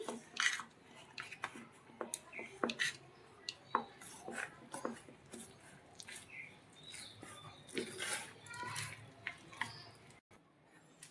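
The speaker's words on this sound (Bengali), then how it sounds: "এবার ভালো করে এটা ফেটিয়ে নিচ্ছি" Malpua batter of semolina and milk powder is whisked in a bowl, making a quiet, irregular series of clinks and scrapes from utensil against metal, close and soft, with no talking.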